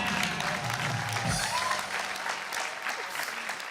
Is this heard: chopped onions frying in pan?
no